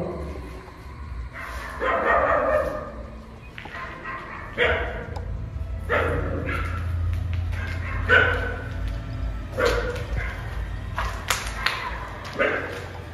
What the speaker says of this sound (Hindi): ये जो कुत्ते भौंक रहे हैं ना,